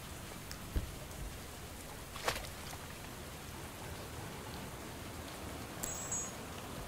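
Rain pours steadily in the game Wood & Weather, a dense, even hiss of drops hitting surfaces with a few sharper isolated splats standing out against the constant wash.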